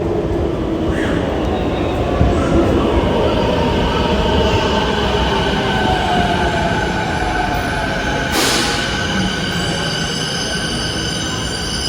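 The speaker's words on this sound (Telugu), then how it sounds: "చూడండి మెట్రో వస్తుంది." A Bangalore metro train rumbles loudly and continuously as it pulls into the station, with a sustained roar, wheel noise and a brief high squeal partway through.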